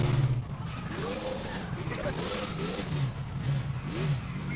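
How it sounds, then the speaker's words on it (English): A car in the video game GTA IV brakes hard and skids, its engine whining and tires scrubbing in several short bursts over a continuous rumbling background. "So I just kind of slam on the brakes and try to straighten it out."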